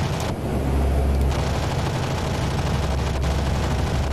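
An AC-130 gunship firing in the DCS flight simulator: a loud, continuous roar of heavy gunfire and rumbling booms filling the whole stretch, with no speech over it.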